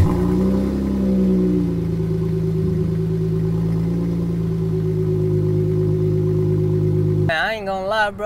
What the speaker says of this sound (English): The car is not as loud as it was before I got the muffler delete